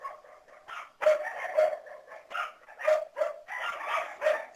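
A dog barks and yips in a rural yard in the countryside, a run of sharp, fairly close barks coming in irregular bursts, with no talk over them.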